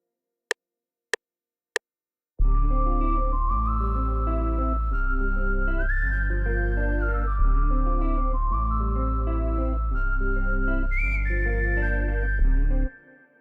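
Three sharp clicks, then a synthesized whistle-like lead plays a stepping melody over steady sustained chords, clean and continuous.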